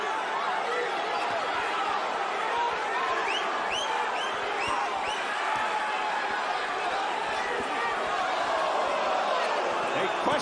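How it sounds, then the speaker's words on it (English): Boxing arena crowd at the Diego Corrales vs Jose Luis Castillo fight, a constant loud roar of many voices surging with each exchange of punches, with a commentator talking over it. "Crowd reacting on every throw."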